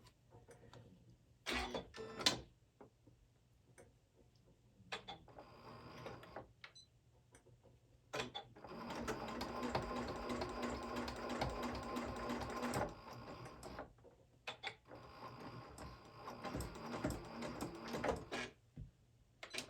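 A sewing machine stitches down a fabric pet sling pouch in two long runs of rapid, steady mechanical whirring, broken by short bursts and pauses with handling clicks, close but fairly quiet, with no speech.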